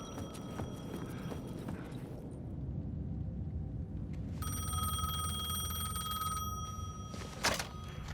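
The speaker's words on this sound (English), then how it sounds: "The payphone was ringing." A payphone rings in the video game Alan Wake 2, a bright electronic bell sounding in a long sustained burst after quieter ambience, with footstep-like knocks nearby and no talking.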